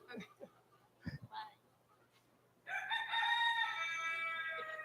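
A Silver Sebright chicken crows once, loud and drawn out, at a poultry show, following a few short bursts of background noise.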